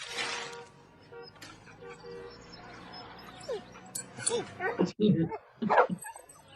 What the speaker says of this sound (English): Look at the cute dog.